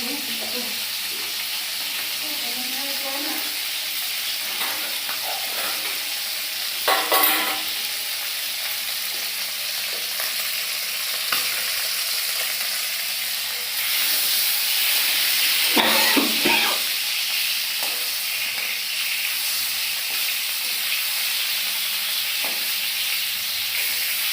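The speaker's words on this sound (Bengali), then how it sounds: "এই যে ওনার জন্য একটা কাতলা মাছের পিস ভাজা করছি" A piece of katla fish sizzles in hot oil in a pan, a steady close crackle lasting throughout with occasional louder spatters and utensil knocks.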